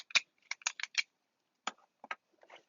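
A Pilot Vanishing Point 2021 Black Ice fountain pen clicked several times, crisp close clicks in a quick cluster followed by a few more after a pause.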